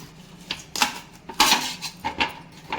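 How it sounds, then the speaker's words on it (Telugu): A knife cuts a washed raw plantain into pieces on a kitchen board, giving about six crisp, close chops at an uneven pace with quiet gaps between them and no talking. "ఇప్పుడు దీన్ని మనం ఇలా ముక్కలు చేసుకుందాం."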